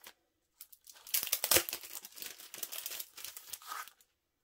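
Crinkly packaging from a BTS merchandise haul being unwrapped close up, a busy run of plastic crumpling and tearing rustles lasting a few seconds, with no voices.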